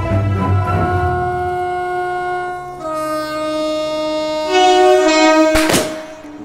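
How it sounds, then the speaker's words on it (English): A freight train on the London–Yiwu rail route pulls in, its loud horn holding long steady tones that shift pitch, ending in a sharp burst, with no talk over it. "Yes, it's a train arriving."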